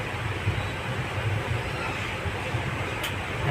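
Inside a train standing at or rolling through a railway junction, a steady low rumble and broadband rail noise fill the carriage, with a brief high squeal near the end.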